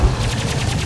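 Rapid gunfire bursts rattle loudly and continuously during a Mass Effect 2 firefight, with a heavy boom at the start and steady overlapping shots throughout.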